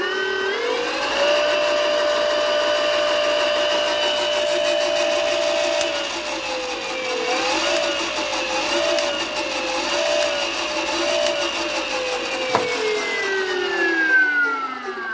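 A 72V 2kW BLDC motor runs steadily at full speed in forward mode, giving a loud, continuous electric whine with rising and wavering pitch, a brief dip mid-run and a falling tone toward the end.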